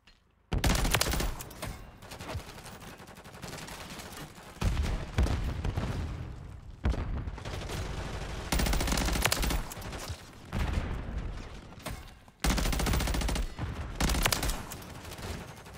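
Sustained bursts of automatic fire from the BP50 assault rifle in Modern Warfare 3, loud and close, coming in several long rattling volleys separated by short pauses.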